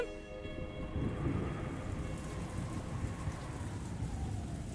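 Steady rain falling in the Umineko visual novel, a continuous dense hiss of downpour with faint low rumbling, heard alone at a moderate level with no talk.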